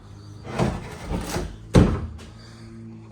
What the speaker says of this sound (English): There's a sliding door of some sort.